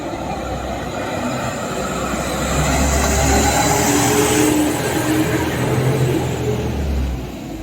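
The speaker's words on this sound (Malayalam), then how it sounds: "ലോറി കയറ്റം കയറി വരുന്നുണ്ടോ." A lorry grinds uphill on a road in Arunachal Pradesh, its low engine rumble swelling louder mid-way as it nears and then easing off again, heavy and continuous throughout.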